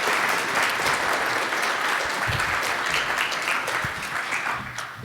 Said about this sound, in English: Let's give Daniel a nice round of applause